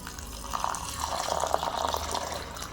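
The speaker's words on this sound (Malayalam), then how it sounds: "ഒരു പാത്രത്തിലേക്ക് ഇട്ട് കൊടുത്തതിന് ശേഷം വെള്ളം ഒഴിച്ചിട്ട് നന്നായിട്ട് കഴുകിയെടുക്കാം" Water is poured into a bowl of urad dal for washing, a soft continuous splashing trickle close by, fairly quiet and steady with no talk.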